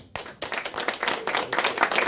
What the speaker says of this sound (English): Please put your hands together for Penny and Sparrow